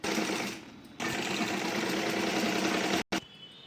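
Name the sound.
sewing machine stitching a blouse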